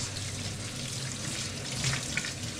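Tap water runs steadily during washing up at an outdoor Kenyan cooking spot, a continuous close splashing hiss with faint clinks, without any talk.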